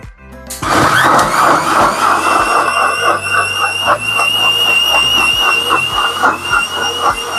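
A mixer grinder starts with a sharp whir and then blends soursop juice with water, a loud, steady motor whine and churning rattle running for several seconds close by.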